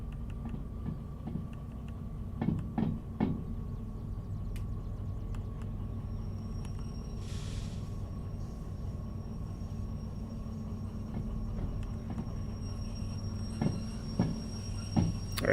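A DH4 diesel locomotive in the Derail Valley train simulator rolls steadily along rails, a continuous low rumble with engine drone and occasional clanks and squeaks from the wheels, fairly close and with no talk over it.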